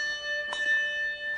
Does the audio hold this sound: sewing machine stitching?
no